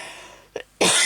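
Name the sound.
cough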